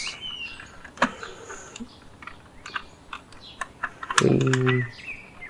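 Copy being typed on a computer keyboard: sparse, close key clicks tap out in an uneven rhythm, with a brief tonal hum rising near the end.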